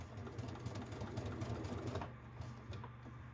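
Sewing machine running steadily as it stitches two pieces of fabric together for a bag, a continuous close motor whir with rapid needle pulsing throughout.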